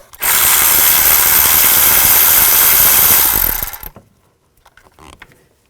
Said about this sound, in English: You can take this bracket off, just use a 10mm socket.